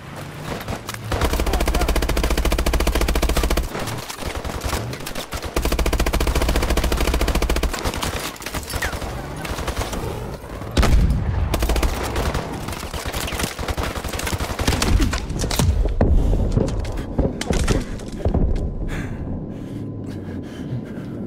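Rapid gunfire bursts from the video game Call of Duty Advanced Warfare, with sustained automatic fire in the first half giving way to scattered, sharper shots and clatter later, loud throughout with no talk.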